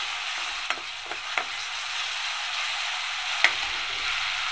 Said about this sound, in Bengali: আমি এখন আদা রসুনটা দিয়ে আবার এটাকে একটু ভালো করে ভেজে নেব।